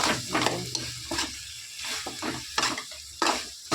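Chicken gravy with masala sizzling in a pan as a spoon stirs it, soft bursts of frying crackle rising and falling with each stroke, close and moderately quiet.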